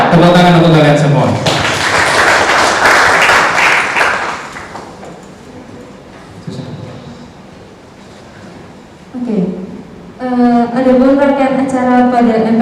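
Students at an SMK Walisongo Semarang school orientation break into a burst of loud, dense clapping lasting a few seconds, with a voice speaking just before and after.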